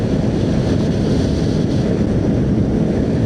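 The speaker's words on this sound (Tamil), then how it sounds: "எனக்கு பயங்கரமாக காற்றடிக்குது" Strong wind buffets the microphone during a ride to the Aare falls, with a constant, heavy low roar and rumble, loud and unbroken throughout.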